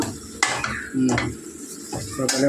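A spoon scrapes and clinks through mutton curry in a pan as masala is stirred in, with a steady sizzle underneath and several distinct metallic scrapes over a few seconds.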